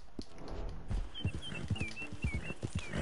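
Horses in the video game Red Dead Redemption 2 clop and stamp their hooves in a quick irregular patter, with a high whinny-like call drifting over them, fairly close and moderately loud.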